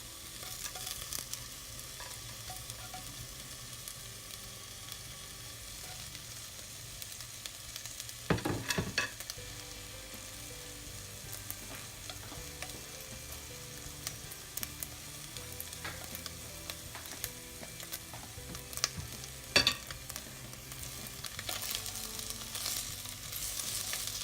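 Tofu fries with onion in a pan: a quiet, steady sizzle runs throughout, broken by occasional scraping and clatter from stirring.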